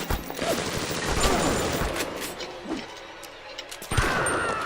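Shotgun blasts from BioShock played on easy mode, a few sharp, loud broadband bangs spread across a busy, cluttered game mix with mechanical clatter between shots.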